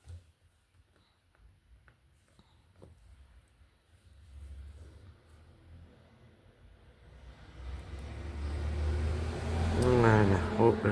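A truck passes outside an open window, its low rumble swelling from faint to fairly loud toward the end while someone speaks nearby.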